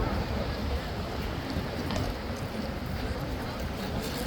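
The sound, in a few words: strong wind blowing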